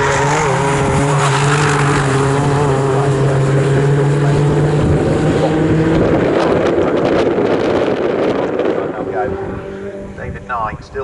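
Ford Fiesta race cars in the BRSCC Fiesta Championship at Snetterton roar past with loud, rising and falling engine notes and wind buffeting, while a commentator talks over the racing.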